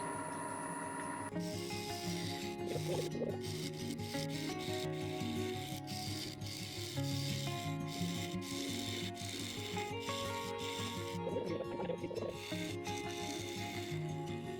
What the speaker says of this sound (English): So we're going to take this tenon off.